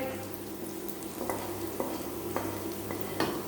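Fried onions and the leftover hot oil being stirred into a pot of cooked sambar, a steady close sizzle with a few sharper scraping clicks of the spoon against the pot.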